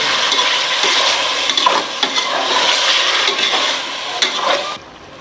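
Chilies and tomatoes are stirred into a sizzling pot of chicken pulao, with a spoon scraping and clinking against the metal pan over steady frying, close and continuous.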